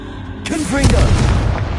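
A Confringo fire spell explodes in the Hogwarts Legacy video game, a sudden loud booming burst with a rushing, crackling tail that fades out over a second or so.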